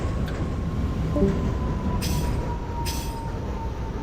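An R68A subway train in the OpenBVE simulator game runs along the track with a steady rumbling roar, a thin constant whine, and brief hissing bursts, close and continuous with no talk.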